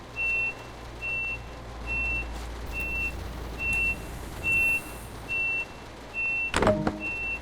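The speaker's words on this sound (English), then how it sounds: "Lock the doors." A DB ICE 314 train in Train Sim World 2 sounds its door-locking warning, a regular series of about nine evenly spaced high beeps over a low hum, ending in a brief clunk.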